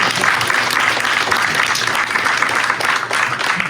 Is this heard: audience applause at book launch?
yes